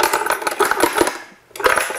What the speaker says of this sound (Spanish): esta es la caída de monedas